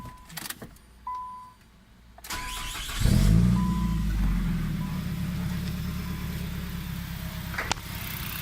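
A 2004 Nissan Sentra SE-R Spec V turns over after a few quiet seconds with faint clicks, then catches and settles into a steady, close, rumbling idle that runs to the end.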